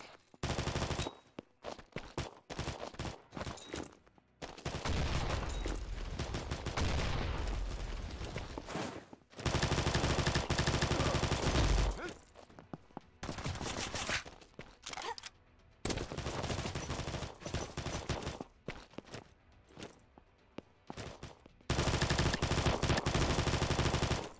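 Sustained automatic gunfire and grenade blasts in the Combat Master mobile shooter game, loud bursts of rapid fire broken by short pauses, with heavy booming stretches across the whole passage.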